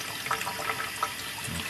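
Water poured into a container for a test tube alien toy, a steady, close splashing trickle that runs briefly on its own.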